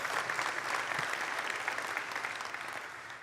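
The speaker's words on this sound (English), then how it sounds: "Yeah, you can clap for that." Audience applause during a SwiftUI app-building presentation: a sustained burst of many hands clapping that gradually thins and fades toward the end, with no talk over it.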